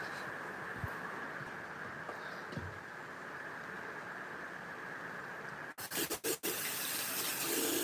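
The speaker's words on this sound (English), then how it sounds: "I want to wash my hands" Water from a tap runs in a steady hiss while hands are washed inside a tiny home, with rain falling outside; the flow cuts off and restarts in several sharp breaks near the end.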